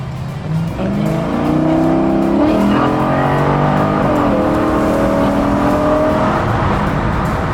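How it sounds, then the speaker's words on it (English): A Chevy Nova cruising at 70 mph gives a loud, steady engine drone with shifting harmonic tones and a constant rush of wind noise throughout, with no talking. "Again, we're going 70, and the car's nice and smooth. You have some air noise, but that's all right."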